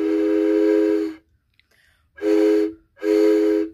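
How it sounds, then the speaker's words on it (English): Three loud blasts on a whistle with a deep, train-like tone: a long one, a short gap, then two shorter blasts close together. "But I think it's a whistle."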